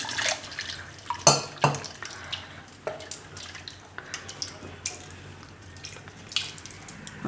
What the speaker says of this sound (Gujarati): તો હવે થોડુંક અમથું પાણી નાખશું આમાં નાખીને